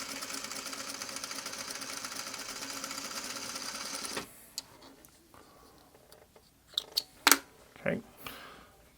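A sewing machine stitches a diagonal line corner to corner across a shoofly quilt block, running steadily and close for about four seconds before stopping, followed by a few quiet handling clicks.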